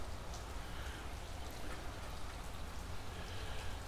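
Steady rain falls outdoors on a cold day in Tampa, a dense even hiss of drops on surfaces continuing without pause, fairly close and moderately loud, with no voices.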